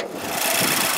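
A 2011 Mazda CX-7 with a 2.3-liter turbocharged four-cylinder idles steadily under an open hood, a close, even mechanical hum with a faint hiss and no voices.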